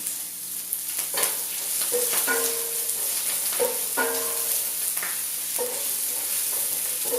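Garlic, ginger and onions sizzle steadily in hot coconut oil, a constant bright frying hiss with soft scraping stirs of a utensil against the pan throughout, close and without talk.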